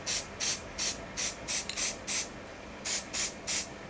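Spray primer hisses from a can onto a miniature model in about ten short, evenly paced bursts, each a close, crisp puff of hiss with quiet gaps between.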